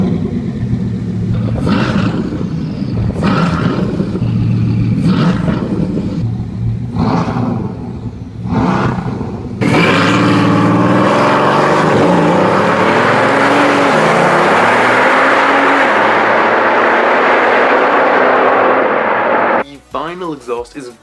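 Loud Bugatti Veyron engine revving in several sharp bursts through its stock exhaust, then a sustained roaring exhaust at full throttle, with a voice talking over the start.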